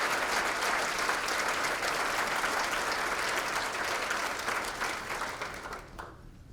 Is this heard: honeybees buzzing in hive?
no